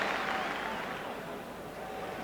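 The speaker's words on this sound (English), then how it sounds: "But thoroughly deserved applause for the Rangers midfield player." Stadium crowd at a Rangers football match applauding a Rangers midfielder, a steady wash of clapping and crowd noise that stays even and fairly loud throughout.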